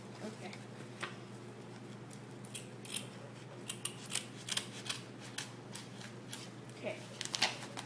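A bag of espresso beans is cut open with repeated crisp snips and crinkling plastic rustles, close and sharp, scattered across several seconds while people talk quietly in the background.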